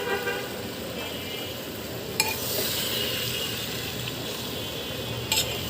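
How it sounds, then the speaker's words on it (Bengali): Malabar spinach and cut potatoes go into a hot pan and set off a steady, close hiss of frying. The sizzle holds on evenly, with a couple of faint sharp clicks. "এখন আমি এই যে পুঁই শাকগুলো দিয়ে দিচ্ছি।"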